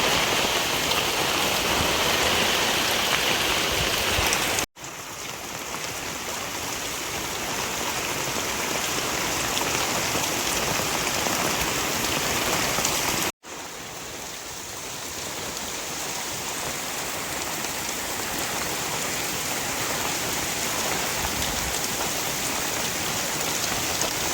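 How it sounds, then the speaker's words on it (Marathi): Heavy rain pours down over planted rice paddy fields, a dense, constant roar of falling water that stays loud and even, broken only by two brief cuts. "पाऊस येते, एवढा पाऊस येतो की काय दिसत पण नाही आजूबाजूला"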